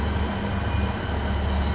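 A train running along the track in the Transport Fever 2 video game, a continuous rolling rumble with a thin high wheel squeal, steady and fairly close, with no talking.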